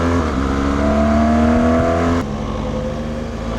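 A BMW R1200GS motorcycle being ridden on a road in Morocco, its engine droning loud and close with a steady hum, then dropping slightly in pitch and level partway through as the rider eases off.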